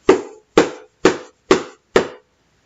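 Five firm knocks on a castle door, evenly spaced about half a second apart, each sharp and resonant with a short decay, heard alone with no voices.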